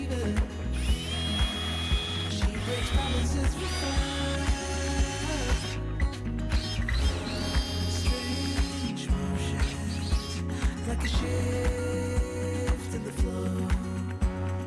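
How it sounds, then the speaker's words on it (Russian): A drill with a 10 mm core bit bores a hole through kitchen wall tile. It makes a loud, rough grinding and rattling with repeated sharp clicks and bursts in a fairly regular rhythm, and no voices are heard. "Делаю в плитке необходимое отверстие коронкой 10 мм."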